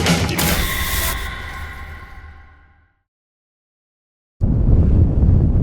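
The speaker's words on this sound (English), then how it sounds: "it's a windy and it's a hot, sunny day" Wind rumbles and buffets a microphone in a loud, low gust that cuts off abruptly, then returns strongly after a short silence.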